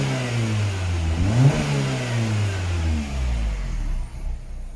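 A Mini Cooper's engine runs steadily with a warning light on and a suspected valve stem oil leak, its hum rising and falling in pitch as it revs, loud and close with no talking.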